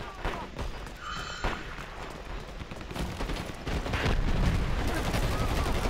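Gunfire in the Dirty Bomb video game, rapid bursts of automatic shots from several weapons with dense crackling and thumps that swell louder toward the end.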